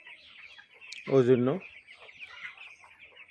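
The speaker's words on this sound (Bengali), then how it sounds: "এই যে এখানে 1500 মুরগির বাচ্চা আছে এখন" A chicken clucks once, loud and near, in a poultry farm shed housing about 1,500 young birds, while a softer chorus of chicks cheeps throughout and someone briefly speaks.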